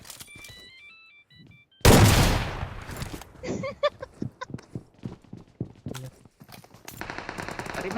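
Gunfire in a first-person shooter video game: a loud blast followed by a rapid string of shots and clicks, mixed with game interface beeps and chimes.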